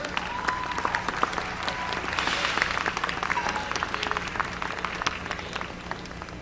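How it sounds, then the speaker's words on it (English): A crowd at the 2021 North American National Championships applauds the event staff, steady clapping sustained for several seconds at moderate distance with faint voices mixed in. "How about a round of applause for the staff?"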